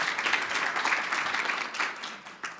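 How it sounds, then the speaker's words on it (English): An audience applauds a speaker after a clinical trial recruitment and retention presentation at a conference, sustained clapping from a room full of people that thins slightly toward the end. "Another round of applause, please, for Victoria."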